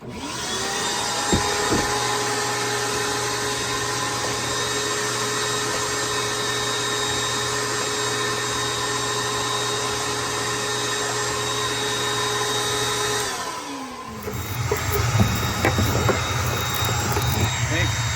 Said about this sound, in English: Get my vacuum on the go again